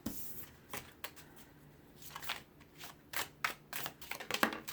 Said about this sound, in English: So I'm just going to shuffle these really well